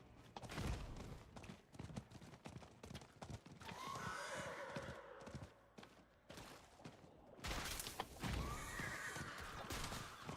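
Galloping horse hooves in the game Diablo IV: Vessel of Hatred, a steady rapid clip-clop under game music and ambience, with crow caws and occasional loud bursts.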